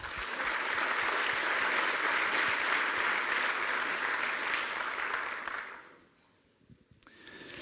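An audience claps steadily and fairly loudly at the opening keynote of a developer conference, the applause fading out near the end.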